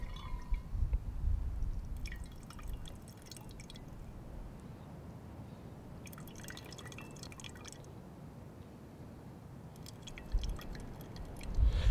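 Dirty desert water draining through a filter into a canteen, a faint continuous trickle with soft drips and a few brief splashy bursts, no voices.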